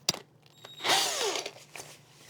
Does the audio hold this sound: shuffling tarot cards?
no